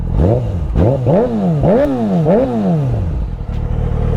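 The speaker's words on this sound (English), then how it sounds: "Let me just give you guys some quick revs." A Yamaha R6 sport motorcycle engine revs sharply several times in quick succession, each burst climbing and dropping back, loud and close, then settles into a rough idle.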